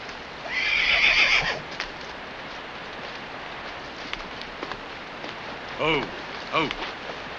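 Horses whinny loudly and close by, with a second, fainter neigh later on, while scattered hoof clops and light patters sound in a quiet outdoor Western scene.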